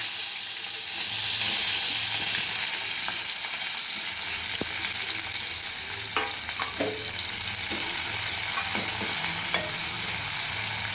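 Onions and green chilies frying in hot oil with cumin and mustard seeds, a loud, dense, constant sizzle close by, dotted with small pops and a few scraping stirs.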